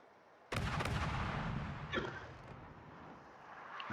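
Secondary guns firing in the naval battle game World of Warships, a sudden loud booming volley that rolls on with rumbling, followed by a couple of fainter distant shots.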